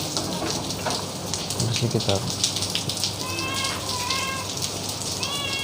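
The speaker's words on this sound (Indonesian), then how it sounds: "tapi itu hujan" Steady rain patters on a surface close by, with a cat meowing several times over it and a brief snatch of speech.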